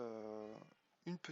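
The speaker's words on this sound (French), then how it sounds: "ça c'est mon chat qui veut rentrer, qui fait la manif." A pet cat meowing at the door to be let back inside, a drawn-out wail followed by short, sharper cries, fairly close but faint.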